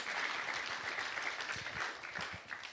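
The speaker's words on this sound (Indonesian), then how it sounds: "Berikan tepuk tangan buat Tuhan Yesus." Congregation at a church service clapping together, a steady wash of applause that holds for a few seconds with some dips, no voices over it.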